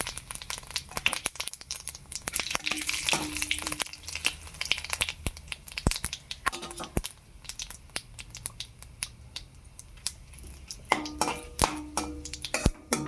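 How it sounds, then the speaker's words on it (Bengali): Cumin seeds and whole bay leaves fry in hot oil in a kadai for ghugni, a dense, continuous crackle of sharp pops and spatters running close and fairly loud throughout. "তেলও গরম হয়ে গেছে। জিরে দিয়ে দিচ্ছি, তেজপাতা গোটা।"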